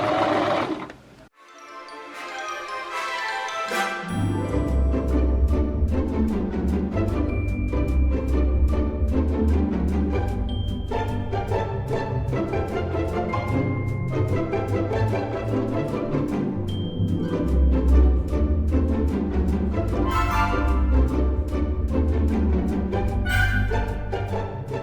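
A sewing machine stitches the sleeve caps into a jacket in a steady, loud, continuous run, starting after a brief quiet opening and carrying on for most of the stretch with no talking.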